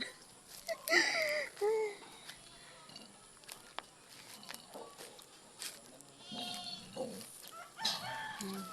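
Farm animals call out intermittently, chickens clucking alongside goat and sheep bleats, with pigs also present, fairly faint with quiet gaps between calls.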